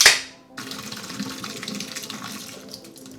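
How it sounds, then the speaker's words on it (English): Liquid from an emptied Four Loko can splashes steadily into a sink, a continuous running, gurgling pour that starts after a brief sharp noise and carries on for about three seconds with no talking. "the first thing you're going to want to do is empty out your Four Loko can"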